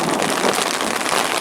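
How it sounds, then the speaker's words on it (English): Heavy rain pours down on a non-league football match in North London, a steady, even hiss of falling water with no talk over it. "this rain showing no sign of letting up"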